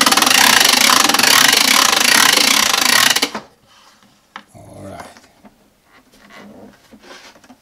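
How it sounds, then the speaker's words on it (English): A hand-cranked generator with spinning gears, built into a transparent batteryless radio, gives a loud, dense grinding whir for about three seconds. Then it stops abruptly, leaving only a few faint clatters and knocks. "you can see that the gears are spinning it's a little bit noisy but it's working"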